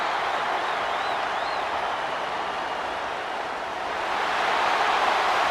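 A packed stadium crowd at a Clemson football game roars in a steady, loud wall of noise that swells slightly near the end, with no clear talk over it.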